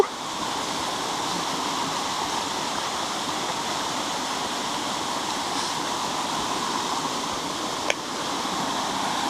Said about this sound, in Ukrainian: Отакий в нас тут водоспад.